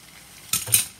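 A utensil scraping and stirring fried apples with cinnamon in a pan, two quick scrapes in close succession, near and alone.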